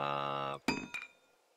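Items scrapped in the video game 7 Days to Die make a short sustained tonal chime that breaks off into two quick clinking clicks, fairly close and clear with no voices.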